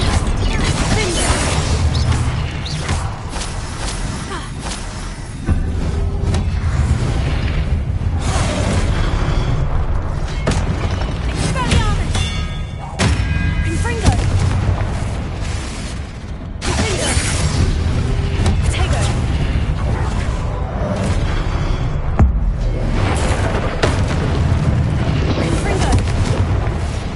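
Fire and blast spells from Hogwarts Legacy boom and crackle in steady, dense bursts over a constant backdrop of game action, with repeated loud impacts throughout and no clear pauses.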